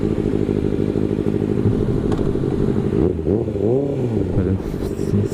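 A Kawasaki Ninja ZX6R motorcycle engine idles steadily close by, its low harmonic drone running throughout, briefly rising and falling in pitch midway as it is revved, while a voice speaks faintly underneath.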